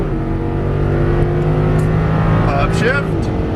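An Audi R8 engine pulls hard on a race track, a loud steady drone from inside the car that climbs in pitch toward the end as the throttle opens, with a voice talking over it.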